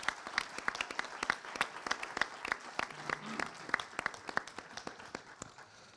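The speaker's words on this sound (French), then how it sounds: "ce que je vous propose de faire avant de passer au rapport financier, c'est d'applaudir tous ces 30 élus" Members at the general assembly of the Paris Île-de-France accountants' order applauding, a modest crowd giving sharp, distinct, uneven claps at moderate distance, fairly faint and continuous.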